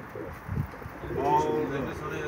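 Domestic pigeons coo nearby in a brief soft burst, heard beneath people talking outdoors.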